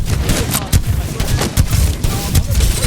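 Missile Swarm weapon in a video game unleashing a rapid barrage of launches and impacts, loud and dense, with repeated bursts rolling over a rumbling low end, a commentator's voice faintly mixed in.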